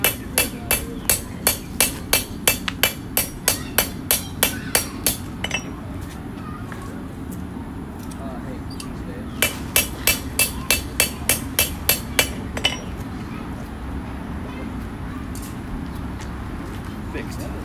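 A forging hammer rings against hot knife steel on an anvil in rapid, regular bursts of sharp metallic strikes, a pause between two runs, while a voice talks over the work.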